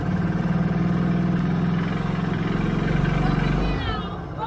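A 2013 CFMOTO Z6 motorcycle engine runs steadily at a held RPM throughout, a loud continuous low drone with a fine periodic pulse, while people talk over it nearby.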